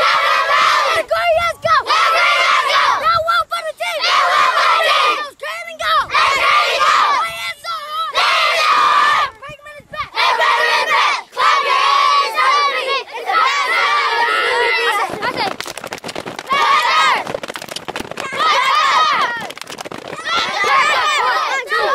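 Halftime crowd at a Louisville sporting event cheering, shouting and yelling loudly and continuously, with bursts of roaring voices swelling and dipping throughout.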